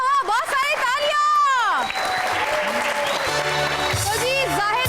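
A studio audience breaks into loud, sustained applause right after a sung line. The clapping fills the rest of the stretch, with a voice and tonal sounds carrying over it.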